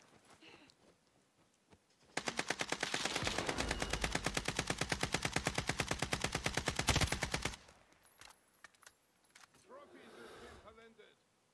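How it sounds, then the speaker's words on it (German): Rapid automatic gunfire from a Call of Duty match, a dense burst of evenly spaced shots lasting several seconds, framed by quieter game sounds and players talking before and after. "Ich werde wieder angeschossen."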